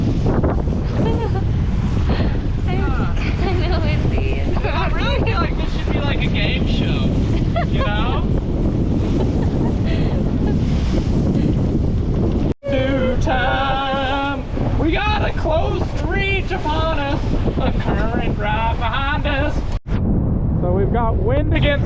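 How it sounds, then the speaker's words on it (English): Strong wind buffeting a sailboat charging through lumpy water with wind against current, a constant loud roar and rumble of gusts and spray, with voices talking over it. "It's kind of windy."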